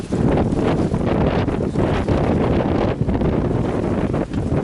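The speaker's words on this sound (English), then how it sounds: "It's like windy out here. Really windy." Strong wind buffets the microphone in a steady, loud roar with gusty surges throughout, no voices heard, in stormy weather at a floating dock.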